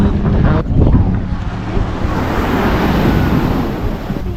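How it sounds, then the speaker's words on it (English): Gusty wind buffets the microphone at a beach at JBR while waves wash and surge close by in a constant, rough roar, stronger in the first second and then settling into a steady rush. "So we've come to the beach"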